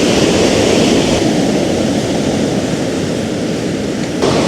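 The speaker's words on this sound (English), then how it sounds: "Got some ferocious waves coming in." Ferocious sea waves break on a shingle beach at Milford on Sea, a loud, continuous roar of surf and wash with no voices.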